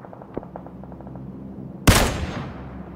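Gunfire in PlayerUnknown's Battlegrounds: faint distant pops, then one loud, close shot with a sharp onset and a decaying tail.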